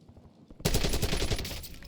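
KRIG C assault rifle firing in the Warzone video game: after a brief quiet lead-in, a loud, close, rapid stream of automatic shots bursts out and continues steadily to the end.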